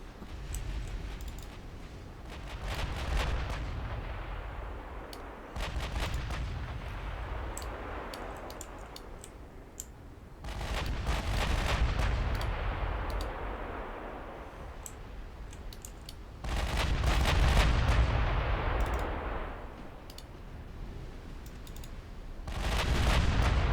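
Naval gunfire and torpedo hits in a video game battle with British ships, heard as repeated booming salvos and crackling impact bursts over a steady rumbling background, loud and continuous without speech.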